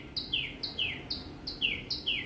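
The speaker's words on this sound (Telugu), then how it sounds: "చిట్టి పిట్ట అబ్బా మినిమం 1 మినిట్ నుండి అరుస్తూనే ఉంది అది." A small bird calls over and over, five sharp high chirps in a steady rhythm roughly half a second apart, fairly close and clear above a low background hum.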